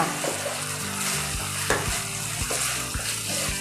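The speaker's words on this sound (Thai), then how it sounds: "ตอนนี้ผัดกะเพราปลากระป๋องหมูกรอบ" Canned fish and crispy pork stir-fried with holy basil in a hot pan, a steady loud sizzle under repeated scraping and clanking of the spatula, close up and without speech.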